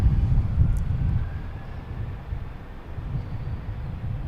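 A Spirit Airlines airplane takes off at Boston Logan, heard as a steady low, distant jet rumble with wind buffeting the microphone, strongest at the start and holding throughout.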